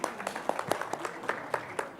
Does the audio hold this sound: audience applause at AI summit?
yes